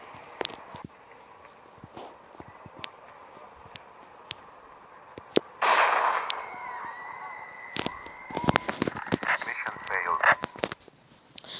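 A bomb explodes in the mobile sniper game Sniper 3D: a sudden loud burst breaks into quiet game ambience midway, followed by sharp crackles and clatter.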